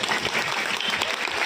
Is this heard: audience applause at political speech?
yes